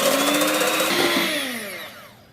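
An electric beater whips eggs with a teaspoon of vanilla essence until fluffy, giving a steady, loud whirring drone that slowly softens and fades toward the end.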